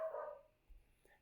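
Dogs barking at a distance outdoors, a brief faint bark or two followed by a soft low thump.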